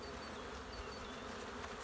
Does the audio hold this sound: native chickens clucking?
no